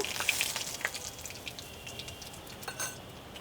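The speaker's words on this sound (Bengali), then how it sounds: "সরিষার তেলে আমি হাফ টিস্পুন পাঁচফোড়ন দিয়ে দিয়েছি" Half a teaspoon of panch phoron sizzles in a tablespoon of hot mustard oil for an olive pickle, giving a light, faint crackle with scattered pops that fades into a quieter, steady fry.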